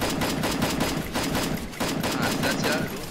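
Rapid bursts of automatic gunfire in an online shooter game, dense and loud, with a short break midway before the shooting resumes.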